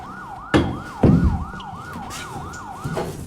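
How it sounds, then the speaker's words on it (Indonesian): A police siren wails in a rapid repeating up-and-down cycle, steady and fairly close, broken by a few loud thumps and knocks in the foreground. "suara sirene polisi mulai mendekat ke arah toko"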